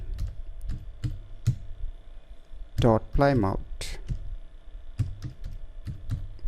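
A computer keyboard being typed on in crisp, irregular clicks with a few quick bursts of keys, while someone speaks clearly in the foreground partway through.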